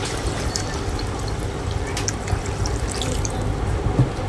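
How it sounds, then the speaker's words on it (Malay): Water poured into a cooking pot of sautéed, pre-soaked basmati rice being made into nasi lemak, a steady close splashing rush that runs unbroken for several seconds with no talking. "kita tuangkan air."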